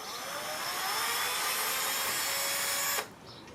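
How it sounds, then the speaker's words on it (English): Power drill boring a hole during a model aircraft build, a steady high whine held for about three seconds before stopping abruptly and winding down. "Decided to use a drill."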